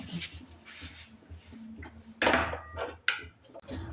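Gram flour batter with mustard oil being mixed in a metal bowl, a soft scraping swirl broken by a couple of sharp, loud clanks of the spoon against the rim, close up.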